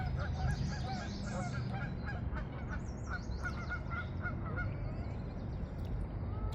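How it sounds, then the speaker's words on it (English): Geese honk repeatedly in short nasal calls over a steady outdoor rumble at a lake in Harbor City, California, the honks moderately close and overlapping. "Look at that goose and a hatchling."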